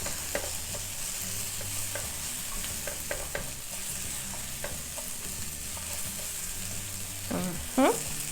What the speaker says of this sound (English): Sauteing. We are sauteing our onions.